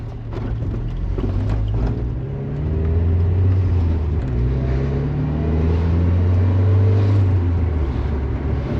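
A turbocharged 1997 Mazda Miata accelerating, its engine droning steadily with a low rumble and a slowly rising pitch, heard from inside the car with continuous road noise and no talking.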